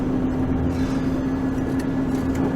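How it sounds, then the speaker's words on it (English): A four-wheel-drive vehicle engine driving on sand, heard as a loud, steady low drone with a constant hum and no break across the whole stretch. "we've engaged four-wheel drive."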